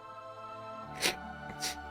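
A video game character sneezes in Lost Ark: two short breathy bursts about half a second apart over a steady, droning game music bed.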